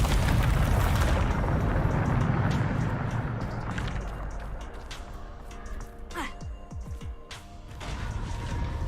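A Bombarda blasting spell goes off in Hogwarts Legacy, a heavy, loud explosion roar that swells and rumbles for several seconds before trailing into scattered crackling debris and a renewed surge of rumble.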